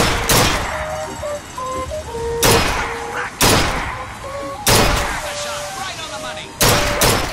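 Gunfire in BioShock Infinite: several loud, sharp broadband bursts at irregular intervals, each standing out over a steady bed of game music and ambience, with a voice occasionally present.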